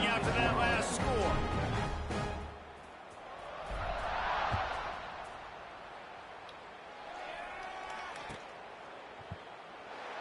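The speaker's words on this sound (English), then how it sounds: "this crowd is buzzing after that last score" A stadium crowd at a college football game between Notre Dame and another team buzzes in broad swells that rise and fall, with a distant roar in the middle, and an announcer talks over it.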